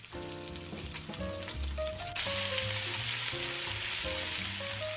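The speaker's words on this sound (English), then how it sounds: "Now it's time to add the bacon. Cook until its fat renders." Bacon sizzles and crackles steadily in a pot as its fat renders for a beery beef stew, a close, continuous frying hiss with no voices over it.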